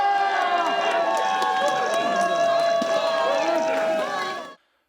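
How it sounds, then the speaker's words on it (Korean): Outside a courthouse, a crowd of citizens claps and cheers right after an acquittal, a loud sustained roar of voices and applause with whistles or cries above it, cutting off abruptly. "무죄 선고 직후 법원 주위에는 박수와 함께 시민들의 환호성이 터져나왔습니다."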